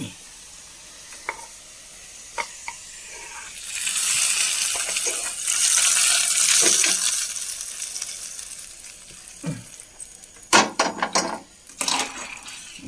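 Fried onion tempering poured from a hot pan into a snakehead (varal) fish curry gives a loud, hissing sizzle that swells and fades over several seconds, followed by sharp clinks and clatters of utensils against the vessel.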